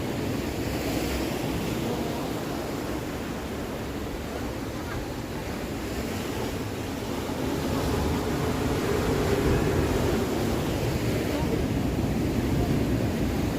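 Sea waves wash continuously onto the rocky shore of Yarada Beach in Vizag, a broad steady roar of surf mixed with wind that swells slightly louder toward the end.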